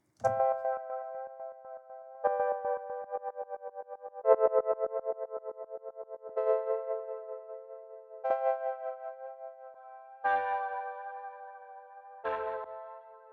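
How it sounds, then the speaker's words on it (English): Guitar chords ring out one after another, each strummed and left to decay, colored by a shimmering, wavering modulation effect with a pulsing tremble. "if we turn on Pipeline, meaning we're now running this through our modulation pedal, this is what it sounds like"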